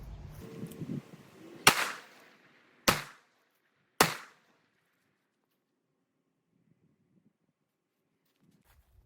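Three sharp, loud gunshots from a .44 Magnum revolver with a 4-inch barrel firing 210-grain Lil Gun loads, spaced about a second apart, each with a short decaying echo, followed by near silence.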